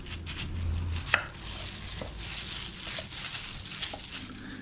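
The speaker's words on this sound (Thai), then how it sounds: "หั่นมะม่วงเป็นชิ้นเลยครับ" Soft, irregular knife chops through a sour Kaew Khamin mango against a cutting board, with one sharper knock near the start, quiet and close.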